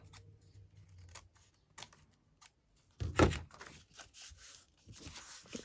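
Scissors snip through paper card in a quiet craft session, a few soft clicks followed by a sharper, louder cutting crunch and small rustles afterward.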